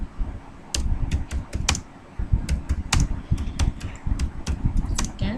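Steady typing on a computer keyboard while a paragraph is entered into an HTML file, with rapid irregular key clicks and heavier thumps close by. Someone speaks briefly over the clatter.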